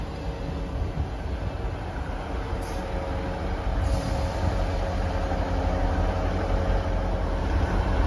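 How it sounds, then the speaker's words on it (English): A ScotRail service bound from Edinburgh Waverley to Aberdeen rolls through Dalmeny station, a steady, loud rumble of wheels and engine that slowly grows stronger, with brief high squeals above it. "Passing through now is a ScotRail service from Edinburgh Waverley to Aberdeen."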